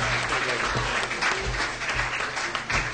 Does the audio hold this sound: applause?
yes